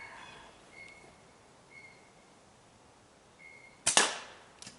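A slingshot shot strikes a pop can outdoors, giving one sharp metallic crack near the end after quiet, breezy moments with faint whistling tones.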